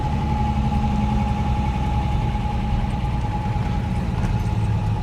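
A 1969 Mercedes 280SE with new tires hums steadily down the road, its engine drone constant and close with a low rumble and no clear gear change over the few seconds.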